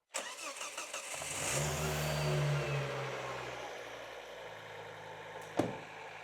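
A Ford Focus ST 2.5T on stock injectors with a newly fitted intercooler cranks briefly, catches, and settles into a smooth, even idle, loud and close, with a sharp knock near the end.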